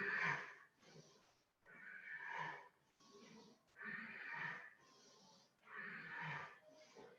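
Strong, rhythmic breaths through the nostrils during a power yoga flow, about five long cycles rising and falling, close and fairly loud with no other sound.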